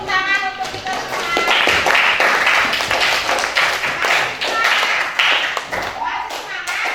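A class of children claps together in a school classroom, producing dense, loud applause that lasts several seconds, mixed with some children's voices.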